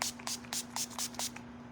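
Time Locker makeup setting spray is misted onto a face in six quick, close spritzes at a fairly even rhythm, with no talking.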